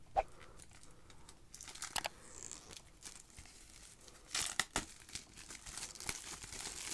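Plastic packaging of a Crypto Tag case being peeled open, with crinkly tearing and crumpling bursts scattered irregularly across the clip, close and fairly quiet with no talk.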